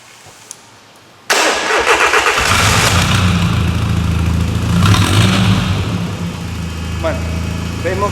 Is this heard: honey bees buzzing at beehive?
no